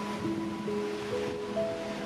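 A waterfall in the Catskills gives a steady, even rush of falling water, with faint sustained tones drifting over the continuous wash.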